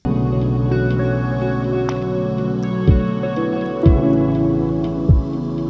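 A jazz guitar playing through a jazz amp preset with delay in a sleepy winter lofi track, giving warm sustained chords over a soft low bed, with a few deep thumps near the end.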